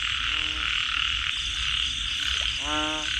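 Large frogs croak across a rice field in heavy rain, with two clear bursts of rapid, rattling croaks, one short and one longer, standing out over the steady hiss of the downpour.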